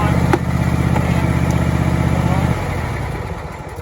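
A John Deere Z525E zero-turn riding mower engine runs close by with a steady, throbbing mid-pitched drone that drops to a lower idle partway through, with someone talking over it.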